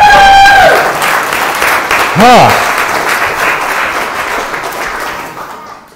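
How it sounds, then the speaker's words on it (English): A church congregation claps loudly for several seconds, a dense spread of clapping that fades toward the end, with a voice speaking and a brief tonal sound over it. "Can you clap because Jesus conquered death?"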